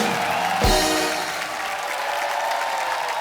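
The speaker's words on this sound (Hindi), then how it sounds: "अजय पाजी के लिए जोरदार तालियां" Studio audience clapping on a Kapil Sharma Show comedy set, starting with a sharp burst and settling into a steady, dense applause that carries on to the end.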